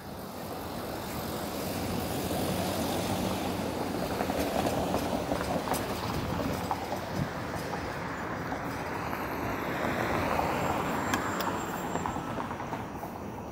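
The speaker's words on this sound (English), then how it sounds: "And there's a streetcar I can hop onto." A Toronto streetcar passes on Queen Street East, a loud continuous rumble and rail roar that builds and holds for several seconds, with faint squeals and clatter over the street ambience.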